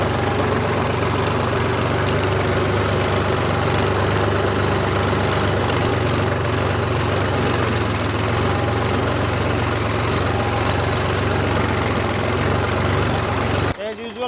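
A new Mahindra tractor engine runs steadily in second gear while driving straight ahead. It makes a loud, continuous, low diesel chug that hardly changes for its whole length before cutting off abruptly.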